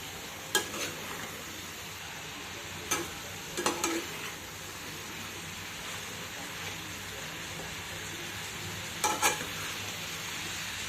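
Sweet potato slices sauté in ghee for a fasting meal, giving a steady low sizzle with a few sharp clicks of a spatula against the pan, heard alone without voices.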